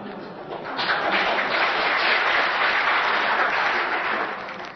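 A debate audience breaks into applause for a question on American foreign policy, a crowd of hands swelling quickly into a loud, steady clatter that holds for several seconds before tapering.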